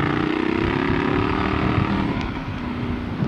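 Triumph Scrambler 1200 motorcycle riding along a country road, a steady close engine drone with wind and road rumble throughout, no talking.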